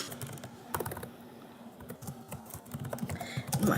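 Typing on a computer keyboard, a steady run of close, light key clicks with a few louder taps, growing busier toward the end, with no talk.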